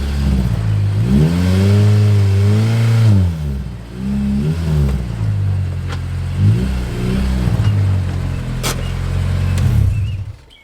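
A car engine revs up and holds high while the clutch is preloaded, surging and dipping in a few rising-and-falling swells, then settling into a loud, steady idle-to-mid drone, close and without voices.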